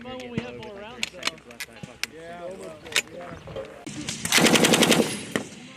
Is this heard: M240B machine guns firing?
yes